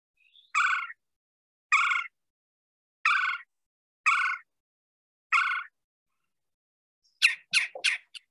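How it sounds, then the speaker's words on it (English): A red-bellied woodpecker call played from a recording: five evenly spaced rolling churr notes about a second apart, then a quick cluster of three sharper notes at the end, clear against silence. "if you listen to the red-bellied woodpecker"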